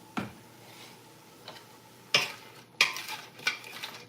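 Homemade soup is stirred in a pot with a spoon: a few sharp clinks and scrapes against the side come at uneven gaps over a quiet background, close and clear with no talk.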